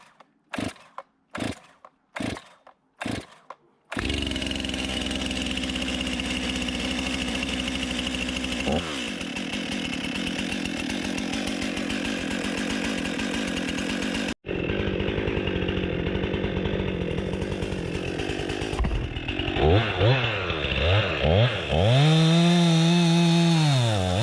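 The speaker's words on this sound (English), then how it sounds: "But this is the first start of this saw." Stihl chainsaw on its first start, a few sharp pull-cord tugs followed by the engine catching, revving loud and steady, a brief cutoff, then bogging and surging while cutting firewood.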